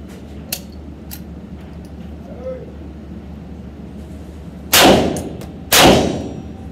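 Two sharp, loud gunshots ring out about a second apart from a firearm fitted with a lower-strength recoil spring during an ejection test, each with a short decaying tail over a quiet background.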